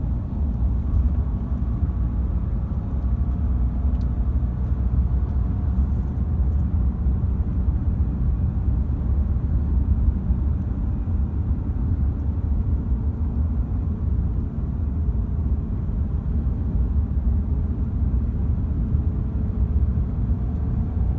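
Car interior while driving, a steady low engine and road rumble that holds fairly even throughout with only slight swells, no voices.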